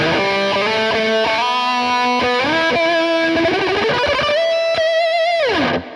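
A distorted electric guitar through a tube combo amp's lead channel plays a sliding lead line with bends, washed in reverb, ending on a sustained note that drops and cuts off.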